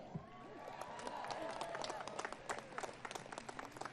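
Graduates at a university commencement ceremony cheer and clap from a distance, a faint continuous patter of applause with scattered whoops across the crowd.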